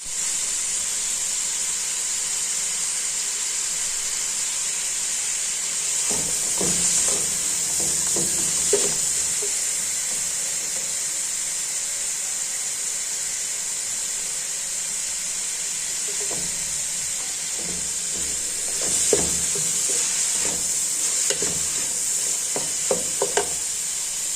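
A garlic clove sizzles in a pot while vegetable soup is cooked, with a steady, close frying hiss throughout and scattered clinks and stirring knocks in two bursts.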